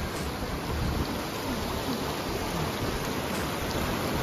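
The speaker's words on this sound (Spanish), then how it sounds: "ya estamos aquí en la unión del río Bao" Flowing water at the confluence of the Las Guácaras and Bao rivers, a steady broadband rush heard close and continuous throughout with no talk.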